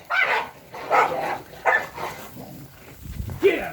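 A dog barks in a series of sharp, evenly spaced barks, about five in a row, moderately close and loud outdoors near a garbage area, with no talk over them.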